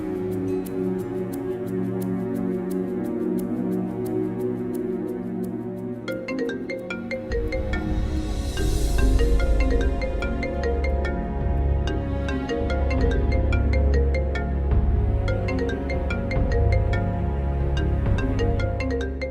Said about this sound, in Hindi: किसका फोन है बेटा?